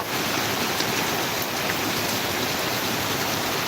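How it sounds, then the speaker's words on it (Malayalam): Steady, even hiss of light rain falling continuously, with no voices or other distinct sounds over it. "ഇവിടെ നേരിയ മഴ"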